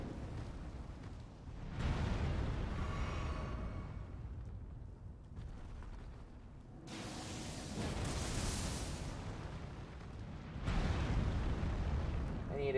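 A boss in the video game Elden Ring breathing fire: long roaring, rushing bursts of flame that swell and fade over several seconds, loud and sustained, with another fiery surge near the end.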